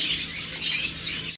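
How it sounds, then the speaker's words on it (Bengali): Lovebirds chirp in a breeding farm, a brief burst of high, raspy chatter and twittering, close and fairly loud, cutting off abruptly after about a second. "আর একে একে আমরা যদি আপনাদেরকে লাভবার্ড পাখিগুলো দেখাই"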